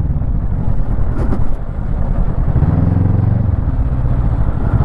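A 2024 Honda NX500 adventure touring motorcycle cruises along with a steady, close engine rumble under heavy wind noise and some clattering, and the revs briefly rise near the end.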